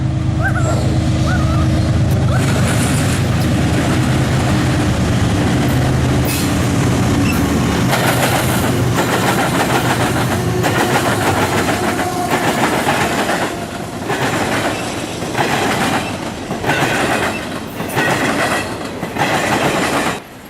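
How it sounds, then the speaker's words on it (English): An eastbound CSX intermodal freight train passes close by with a loud, steady rumble of engines and rolling cars, giving way to rhythmic clickety-clack of wheels over rail joints as the wagons roll past, with no voices. "The next train we saw here was an eastbound CSX intermodal train."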